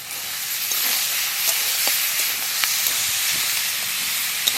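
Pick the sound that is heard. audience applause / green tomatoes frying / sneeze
green tomatoes frying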